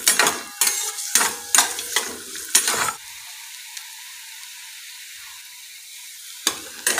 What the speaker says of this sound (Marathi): आता आपण याला छान असं लालसर रंग येईपर्यंत परतून घेणार आहोत।